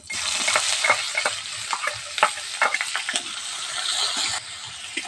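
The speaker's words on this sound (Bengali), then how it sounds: "এই পেঁয়াজটা তেলের মধ্যে দিয়ে দেবো।" Small chopped onions fry in ghee in a pan, giving a steady sizzle broken by sharp crackles and stirring scrapes, loud and close with no talking.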